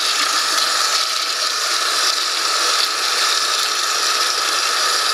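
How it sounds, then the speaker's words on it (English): A Nikuni microbubble generator pump runs while its outlet valve is throttled down, giving a loud, continuous rushing hiss of water flow with no pauses and no voices. "I'm going to reduce the flow rate by reducing the outlet valve here"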